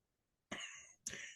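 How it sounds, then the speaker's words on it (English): Two sharp coughs, close and clear, the second following quickly after the first, against near silence. "You will have to excuse me for this cough."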